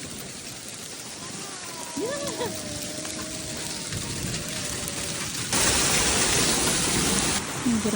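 Hail pounds down hard and steadily during an Arizona hailstorm, a dense roar of ice striking surfaces that swells louder partway through, with a voice shouting once over it.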